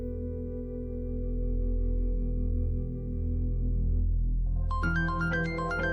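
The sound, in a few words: phone ringing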